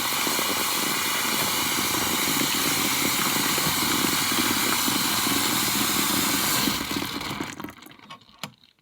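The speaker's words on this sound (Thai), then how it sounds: "น้ำเดือด" Loud, steady hissing and bubbling like water at a rolling boil, close up, heating water to cook oatmeal for chickens, which cuts off abruptly near the end leaving faint clicks.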